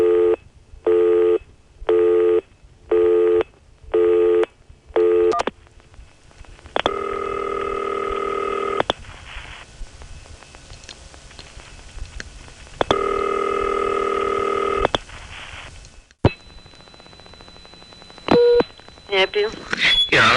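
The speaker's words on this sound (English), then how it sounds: "there are some recordings, thanks to AIS and TSPS, of phone noises coming through off hook N3 carrier trunks" Telephone line sounds over off-hook N3 carrier trunks: a run of evenly pulsed busy-signal bursts, then two long steady tone stretches, followed by clicks, a thin carrier whine and fainter scattered tones.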